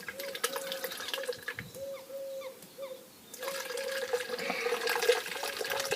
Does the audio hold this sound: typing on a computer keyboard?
no